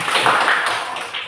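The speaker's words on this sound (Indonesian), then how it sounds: "Kita beri tepuk tangan untuk kelompok 3" A school classroom of fourth-grade pupils claps for a student group, a short burst of dense, close applause.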